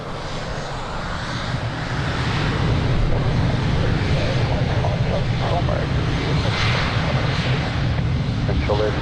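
An airliner rolls for takeoff on runway 02 at Lisbon Airport, its engines a loud, broad sustained roar building and holding throughout, with faint radio voices mixed in underneath.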